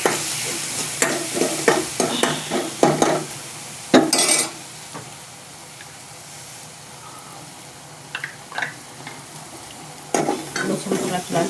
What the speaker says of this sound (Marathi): आता लसूण गुलाबी झाला का, आता आपण मिरची बारीक केली टाकली